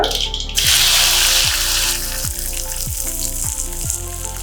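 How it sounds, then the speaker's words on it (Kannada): Sliced ivy gourd dropped into hot oil in a kadai, an instant loud hiss that settles into a steady close-up frying sizzle over a low hum. "ಈಗ ಕಟ್ ಮಾಡಿರೋ ತೊಂಡೆಕಾಯಿನ ಹಾಕೊಳ್ಳೋಣ"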